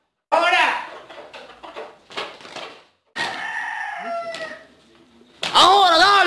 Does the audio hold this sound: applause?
no